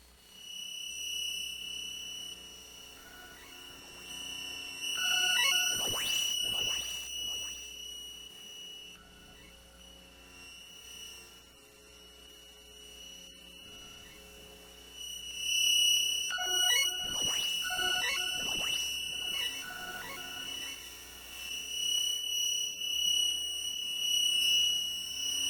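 Glitchy electronic tones, beeps and buzzing drones from a ZOIA modular synth module, picked up through an electromagnetic pickup; steady tonal hum with two louder bursts of dense clicking and chirping, no talking.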